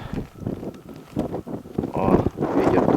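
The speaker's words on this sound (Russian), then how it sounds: "О, ветер дует до сих пор. Видите, скорость какая ветра." Strong wind gusting across an open frozen lake at a winter fishing camp, a rough continuous roar that swells louder toward the end, with a voice speaking faintly underneath.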